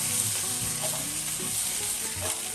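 Drained vegetables frying in a hot pan, a loud, steady sizzle filling the whole moment with faint stirring scrapes underneath.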